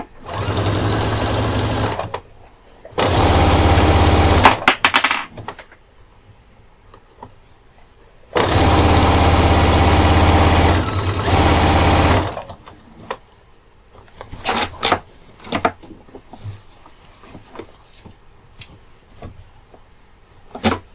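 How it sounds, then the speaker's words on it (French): A sewing machine topstitches a backpack at 2 cm, running in two long steady bursts of rapid, loud whirring stitches, then pausing amid quieter handling clicks and rustles of fabric. "Et je vais donc faire ma surpiqûre à 2 cm."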